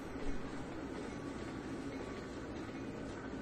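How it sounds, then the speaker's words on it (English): Norfolk Southern boxcars roll on jointed rail in the train simulator Trainz 2019, giving a steady, muffled rumble of wheels that runs on without change and stays low and fairly faint, with no talk. "Some Norfolk Southern boxcars. Also from jointed rail."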